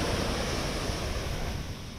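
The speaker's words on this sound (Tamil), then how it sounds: "தேங்காப்பட்டினம் கடலும் அந்த கடல் அலையோட ஓசையும் பார்க்குறதுக்கும் கேட்குறதுக்கும் மனசுக்கு ரொம்ப இதமாக இருக்கு" Sea waves on the palm-lined shore of Thengapattinam beach in Kumari, a continuous broad rushing wash of surf mixed with wind noise, loud and close with no voices.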